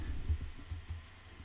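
A few light, separate keystrokes on a computer keyboard tap out a short word, quiet and close with no voices.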